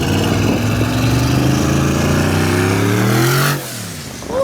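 Twin-turbo LS V8 swapped into a Mitsubishi Mini Cab accelerating hard under boost, a loud rising engine note climbing steadily for over three seconds before abruptly dropping off as the throttle lifts.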